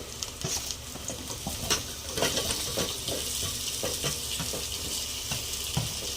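Drumstick pieces and onions sizzling in a pan for a coconut drumstick curry, a steady close crackle with scattered stirring scrapes and clinks throughout, no talking.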